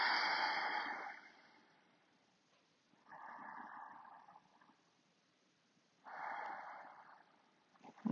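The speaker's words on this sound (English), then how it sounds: "Deep breaths." Slow, deep breaths during a yoga practice session, with three long audible exhales spaced a couple of seconds apart, close and fairly quiet, no talking.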